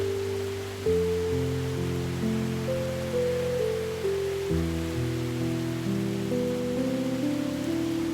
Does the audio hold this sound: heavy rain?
yes